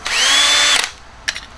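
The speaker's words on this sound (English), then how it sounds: "I'm gonna drill" A power drill bores a hole for a T-bolt in an inflatable kayak rig, one loud whining burst lasting under a second and then stopping, followed by a couple of brief clicks and handling knocks.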